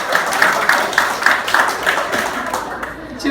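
Guests at a wedding game break into applause, a lively burst of clapping with regular hand claps audible in the mix, fading slightly toward the end, with voices mingled in.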